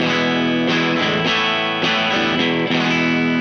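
A Japan-made Hybrid II Jazzmaster electric guitar plays chords through a Mozztronics CS-2 tube compressor sustain pedal, a dense, even, sustained tone with several chord changes and no pauses.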